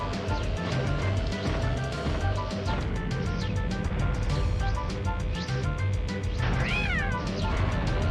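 Cartoon cat meowing in the kart racing game Crash Team Racing, several clear meows over loud, busy castle-level music with engine noise, ending in a rising, wavering yowl.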